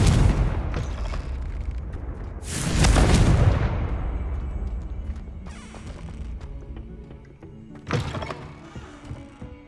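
Confringo fire blast spell cast in Hogwarts Legacy, a loud booming explosion with a crashing burst, followed by lingering rumble and a second smaller impact later.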